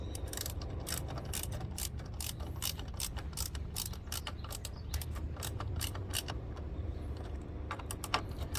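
A ratchet tightens the bolts on a Kia EV6 rear brake caliper during a pad change, making quick, close, continuous clicking strokes at moderate volume.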